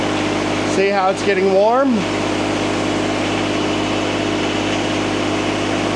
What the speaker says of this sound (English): let me fire this machine up. This is a Yanmar diesel powered machine.